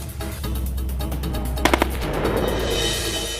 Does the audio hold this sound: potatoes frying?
no